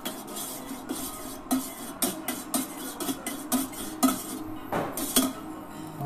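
Spoon stirring gently simmering water into a whirlpool in a pot to poach an egg, a run of sharp metallic clinks against the pan in an irregular rhythm, close and fairly loud with no talk.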